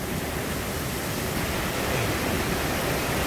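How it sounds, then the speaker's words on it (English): Waterfalls on the river at Comfort Castle, Portland, a steady dense rushing roar of falling water, broad and unbroken throughout with no voices. "and see the waterfalls there"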